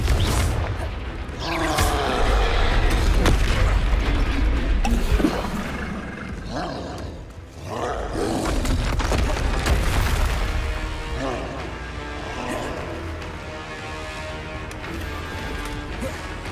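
Confringo fire spells blast in Hogwarts Legacy gameplay, with loud booming explosions and roaring crashes rolling over a heavy rumbling background, some bursts briefly dipping before surging again.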